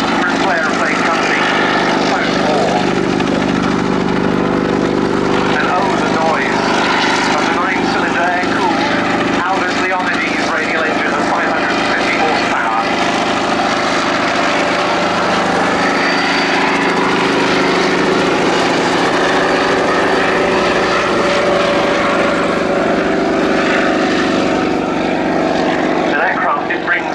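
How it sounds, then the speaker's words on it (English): Bristol Sycamore Mk.52 helicopter at an air show, a loud steady engine and rotor drone holding throughout, mixed with crowd and commentary talk. "What a machine. The first British designed helicopter to see Royal Air Force service."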